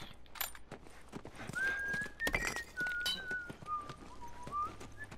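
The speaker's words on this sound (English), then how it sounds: "I heard that whistle." A thin, wavering human-style whistle from The Last of Us Remastered video game drifts in and out over a noisy in-game soundscape with footsteps and ambient rustle, fairly distant and carrying no speech.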